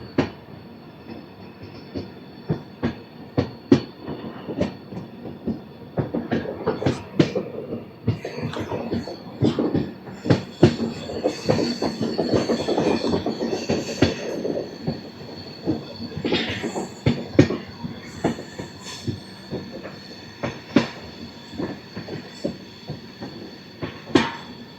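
The Tirupati–Secunderabad Padmavati superfast express rolls along near Guthi Fort station with a rhythmic clatter of wheels over rail joints, sharp repeated clicks and occasional squeals over a low rumbling drone.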